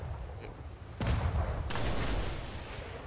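Ship cannon volley in the naval combat video game ATLAS: a sudden loud blast that rolls into a sustained booming rumble before fading out.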